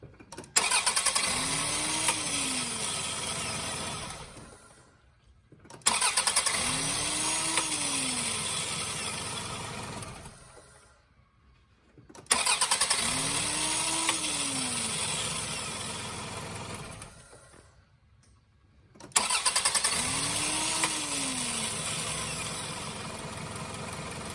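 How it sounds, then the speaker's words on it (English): A 1999 Toyota Camry with a newly replaced starter cranks and fires four times in a row, each start catching into a short steady idle before shutting off, close and loud with no talk. "I'm gonna give this a shot and see if there's any dead spots."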